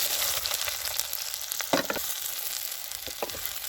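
Onions fry in hot oil with mustard seeds, cumin and dried chillies, giving a steady close sizzle broken by a few sharp stirring scrapes.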